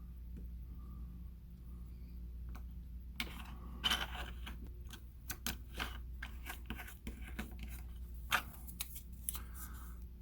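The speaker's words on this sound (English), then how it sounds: "Do my best to try to cut this out square." Knife cutting a square outline in material during a boat refit of a Miranda Hornet, producing scattered scraping and snipping strokes over a steady low hum, fairly close and moderate in level.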